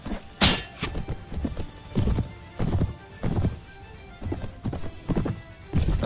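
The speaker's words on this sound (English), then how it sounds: "My horse!" A horse clip-clops and neighs during a battle in the Viking Conquest video game, with rhythmic hoof thuds repeating in clusters and a sharp whinny near the start, all close and fairly loud.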